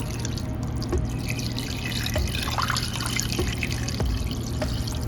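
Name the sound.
pouring two cups of water into a pan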